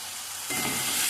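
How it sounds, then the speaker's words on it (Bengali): Vinegar-marinated chicken for palak chicken sautéing in a pan with garam masala and Kashmiri chili powder; a close, steady sizzle bursts in about halfway through and keeps hissing to the end. "আর একটু গরম মশলার গুঁড়ো আর একটু কাশ্মীরি লঙ্কার গুঁড়ো দিয়ে মাংসটা কষছি।"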